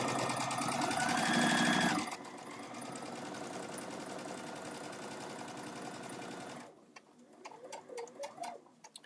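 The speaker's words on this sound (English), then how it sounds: "I'm just going to chain stitch this" A sewing machine chain-stitches a bag in a steady run lasting most of the clip, louder at first, then stopping and leaving faint clicks and a soft background.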